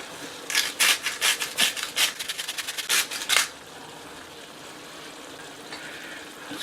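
Spoon scrapes and stirs beef vindaloo in a pot, a quick run of about fifteen rhythmic rasping strokes that speed up, then stop, leaving a low background hiss.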